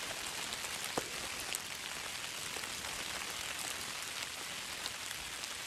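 Steady rain pours down at a canoe campsite in the Adirondacks, a dense even patter with occasional louder drops, no voices.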